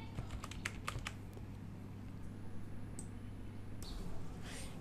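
Keys clatter on a computer keyboard in a quick burst of clicks, then a few scattered taps follow, close and fairly quiet against a faint steady hum.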